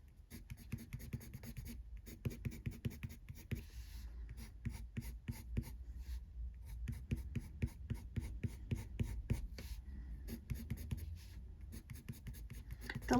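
Quiet, close coloured-pencil strokes on paper for layered colouring of hair in a colouring book, quick rhythmic scratching bursts separated by brief pauses.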